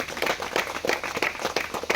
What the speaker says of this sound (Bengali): জোরে জোরে জোরে একটা হাততালি এক্সিপমেন্টের জন্য।